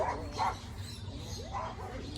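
Dogs bark near a cockatoo enclosure under construction. Two sharp barks come close together, then another after a pause, moderately near over a steady background hum.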